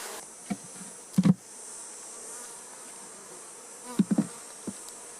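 Honey bees buzz around honeycomb during a honey harvest, a steady insect drone with a few sharp closer knocks and bumps breaking through.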